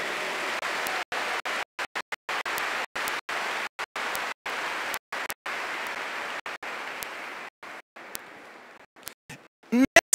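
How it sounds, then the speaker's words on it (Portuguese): A church congregation at a Catholic Mass applauds the faith of the parish, sustained crowd clapping heard fairly quietly over about ten seconds, broken by brief dropouts and ending in a few louder bumps. "Eu queria que você aplaudisse a fé dessa igreja."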